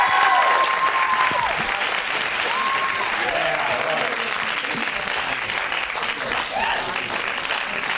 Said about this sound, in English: let's give the biggest round of applause that Hugh was able to stop by today with all.